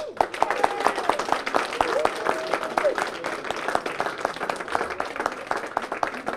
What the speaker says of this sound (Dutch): jullie eigenlijk allemaal een applaus verdienen